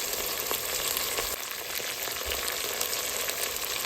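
Sliced large onions and curry leaves fry in a pan as a biryani base, giving a steady, close, bright sizzle with a faint stirring scrape.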